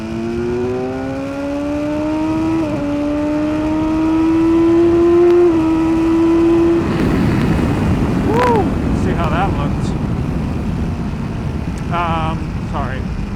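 A motorcycle rides at around 30 miles an hour, its engine holding a steady rising tone that shifts as it changes gear, then drops away under heavy wind rush, with a few higher whining sweeps near the end.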